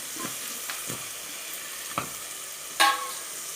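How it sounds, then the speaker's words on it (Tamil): Diced potatoes fry in masala for a Tamil chickpea kulambu, with a steady low sizzle and a few scraping stirs, the last a louder clatter near the end; no talking. "இந்த மசாலா கூடவே நம்ம வந்து ரெண்டு உருளைக்கிழங்கு போடுறோம்"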